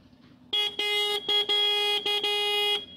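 A Hero Glamour Xtec 125 motorcycle horn beeps loudly in a quick series of short and longer blasts, steady-pitched and close, with a faint engine idle underneath.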